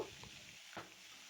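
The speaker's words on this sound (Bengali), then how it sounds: "হাই করে দিয়ে মাছের মাথাগুলোকে আমি ভেজে নেব" Fish heads frying over a high flame in white oil give a faint, steady sizzle, with a soft stir partway through.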